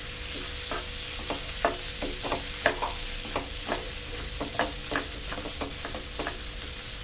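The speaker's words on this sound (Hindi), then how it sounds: "जीरा तड़क जाने के बाद इसमें मैश किए हुए आलू डालेंगे और थोड़ी देर चला लेंगे" Mashed potatoes stirred in a frying pan after cumin seeds crackle in hot oil for bread pakoda: a steady sizzle under repeated scraping spoon strokes at an even, unhurried pace.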